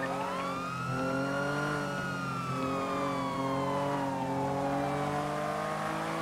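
A car engine in a video game held near its redline, a steady high-pitched whine that slides slowly up and down in pitch, loud and continuous with no pause.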